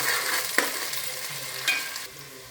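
Frying on a medium flame with mint and coriander leaves in the pan, a steady soft sizzle with a couple of brief stirring clicks, close and moderately quiet.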